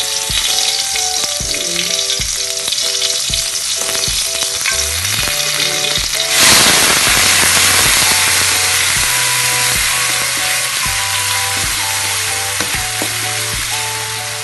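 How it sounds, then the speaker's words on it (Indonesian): Coarsely ground spice paste for Acehnese lontong vegetable soup sizzles loudly as it is sautéed in hot oil, with a steady frying hiss that swells suddenly partway through, over faint tonal background sounds. "Ini bumbu halusnya sudah saya uleknya agak kasar. Terus saya tumis."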